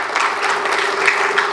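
Brief, steady applause from the audience at the Lovebird Society of Karachi grand opening ceremony, a dense wash of clapping with a faint tone beneath it.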